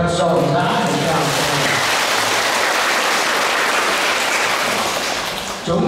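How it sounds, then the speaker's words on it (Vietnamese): Congregation in a Vietnamese parish church bursts into sustained applause welcoming a new parish priest at a thanksgiving Mass, a dense, loud, even clapping that holds steady for several seconds before tapering at the end. "Xin cộng đoàn cho một tràng pháo tay thật rộn rã để chào."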